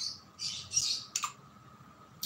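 A lovebird chatters in a few quick, close squawks and chirps, with one brief burst following another and then quieter pauses against a low, hushed background.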